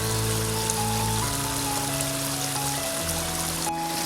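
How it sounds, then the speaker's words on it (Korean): A stream flows beside a path to Dasan Chodang in Gangjin the day after rain, a steady, close rush of water running continuously beneath sustained soft instrumental tones. "비가 내린 다음 날이라서 개울물 소리가 유독 시원하게 느껴집니다."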